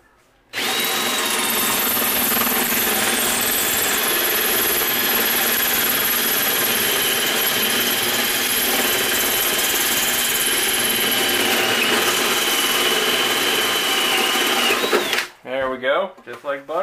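A power drill with a hole saw cuts a hole in an ammo box, running continuously for about fifteen seconds with a steady whining, grinding tone, then stops abruptly, followed by speech.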